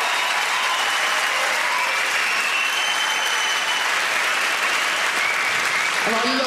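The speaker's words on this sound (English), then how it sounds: "Let's give them a round of applause." Dense, steady applause from a comedy club audience at the Apollo fills the room at full volume for several seconds, with a voice rising at the very end.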